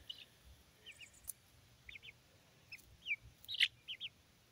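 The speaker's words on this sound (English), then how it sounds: "Hello, my little chickies" Small chickens cluck and chirp softly in short scattered bursts close by, over a quiet outdoor background, with a few louder peeps near the end.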